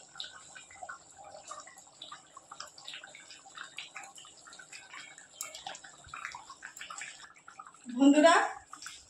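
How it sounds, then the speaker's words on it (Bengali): Rohu fish pieces dropped one by one into a boiling curry broth with small potatoes: quiet simmering and faint kitchen clatter under soft talk, then one brief, louder watery splash near the end. "ঝোল ফুটছে, এক এক করে মাছগুলো আমি দিয়ে দেবো।"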